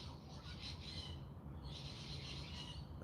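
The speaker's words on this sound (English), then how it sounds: "I love the sound of the birds." Faint bird calls drift through a rainy morning outdoors in Melbourne, Australia, with soft repeated chirps over a steady low hiss of rain.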